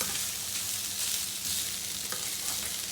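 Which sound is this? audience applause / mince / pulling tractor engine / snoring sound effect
mince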